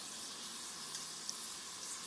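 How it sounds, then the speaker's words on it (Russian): Chicken legs and wings roasting in a hot tandoor give off a faint, steady sizzling hiss that holds evenly throughout, with no voices. "курица потемнела, потихоньку жарится"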